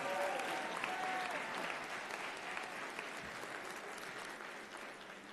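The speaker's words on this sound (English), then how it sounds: "Round of applause for this group of Tigers." A convocation audience applauding graduates, a sustained even roar of many hands clapping throughout, moderately distant, with a faint voice or two mixed in.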